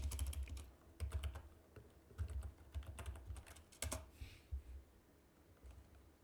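A computer keyboard being typed on to name a new layer folder in a drawing program, with quick, quiet bursts of key clicks and short pauses, fading to near silence at the end.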